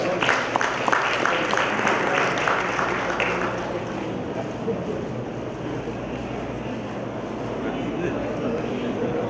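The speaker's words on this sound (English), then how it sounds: "Again, a round of applause to our awardees." Applause from an audience at an anniversary ceremony honouring awardees, dense clapping that is strongest at the start and thins into a lingering murmur and rustle, with talk over it.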